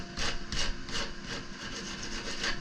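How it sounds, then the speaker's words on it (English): A wooden shape is sanded by hand in a steady rhythm of about six rasping back-and-forth strokes, close and continuous. "sands that down"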